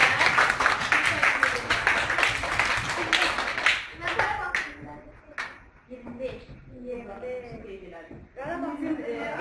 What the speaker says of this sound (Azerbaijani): gəlin onları alqışlayaq